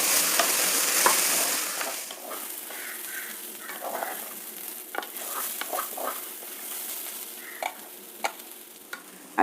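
Rice grains are stir-fried in a spiced oil tempering, a soft sizzle beneath repeated spoon scrapes and knocks against the pot. The sizzle is louder at first and eases off.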